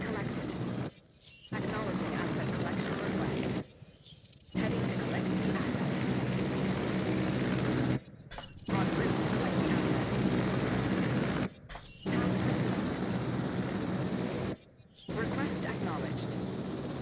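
Helicopters fly over a dinosaur park in the video game Jurassic World Evolution, with a loud, steady rotor and engine drone cut by several brief drops out and back, while someone speaks over it.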